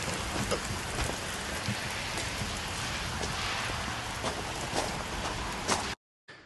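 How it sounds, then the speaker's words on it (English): Steady, heavy rain pouring down, a dense continuous hiss with occasional louder drops, cutting off abruptly at the end. "it's pouring down rain out there"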